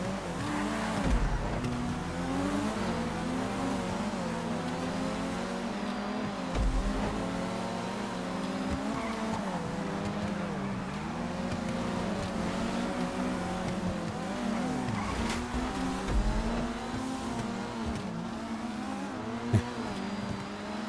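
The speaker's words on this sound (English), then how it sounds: "that is the Mitsubishi Eclipse" A Mitsubishi Eclipse drifting through Vinewood in GTA 5, its engine droning and revving continuously with rising and falling pitch, tires skidding and squealing throughout, loud and close without pause.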